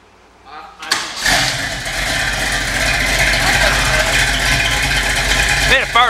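A 1968 Mercury Cougar V8 cranks and catches after a second of quiet, then settles into a loud, steady, rumbling idle close by, with people talking over it near the end.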